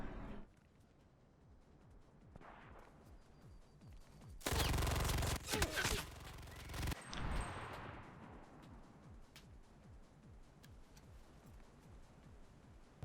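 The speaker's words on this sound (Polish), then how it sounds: "Dobra, zmieniam na Pepesze, bo on tu może być." A PPSh submachine gun fires in the video game Cuisine Royale as a single rapid, loud burst of about two seconds, followed by some softer shots and rustling against a quiet background.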